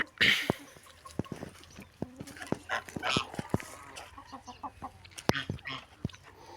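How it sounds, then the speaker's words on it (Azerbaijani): Agitated turkeys in a backyard poultry yard, with chickens nearby, give a loud, busy run of gobbles, clucks and sharp calls, overlapping and bursting irregularly at close range with no talk. "Hindişkalar dəli olublar"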